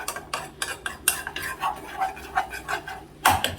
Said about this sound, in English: And while that melt down, 2 tablespoons of flour. Stir that now.